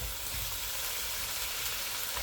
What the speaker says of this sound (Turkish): Sarımsaklarımız kavrulduktan sonra kalın kalın doğramış olduğumuz domateslerimizi tenceremizin içerisine domateslerimizi ekliyoruz.